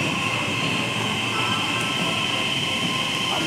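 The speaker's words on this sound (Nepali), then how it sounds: "ट्रेन आउँछ।" A train pulls into a Tokyo station, a continuous loud rumbling roar with a steady high whine above it, close and unbroken for the whole stretch.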